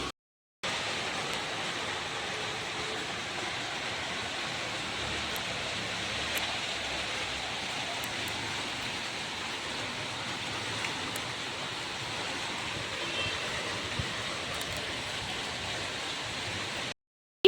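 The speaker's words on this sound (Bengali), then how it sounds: "বৃষ্টিটা এসে আমার সব কিছু পন্ড করে দিল" Rain falls outside in a steady, dense hiss that holds evenly for the whole stretch, heard up close with no voices over it.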